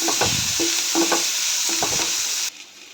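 Chilli frying lightly in a pan for homemade pasta crackles with a steady sizzle, broken by repeated scraping and stirring strokes of a utensil, and cuts off abruptly near the end.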